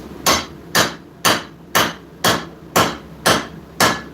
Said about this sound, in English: when we're forging, half of the hammer is over the anvil, the other half is off the edge